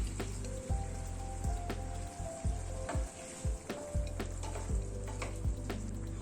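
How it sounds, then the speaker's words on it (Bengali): Hot water poured into sizzling Coorg-style chicken masala in a pan, a quiet, crackling hiss with rain-like spatter and repeated low bubbling pulses, steady throughout at close range with no voices. "এবার গরম জল অ্যাড করে দিচ্ছি।"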